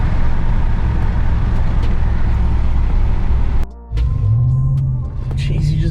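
A 2020 Ram Rebel pickup truck accelerates, a loud, steady engine rumble that cuts out briefly, then resumes with a rising tone as the revs climb, with no talk.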